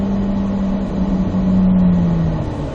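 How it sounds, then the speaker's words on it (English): A race car engine holds a steady droning tone at full throttle, loud and close and continuous, with no voices. "we'll stay on the throttle all the way up to the floorboard"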